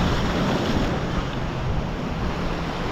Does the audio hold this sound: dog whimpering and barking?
no